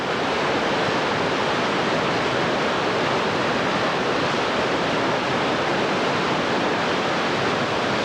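Whitewater rapids on the New River in West Virginia give a loud, steady, broadband rush of churning water that holds unbroken throughout, with no voices.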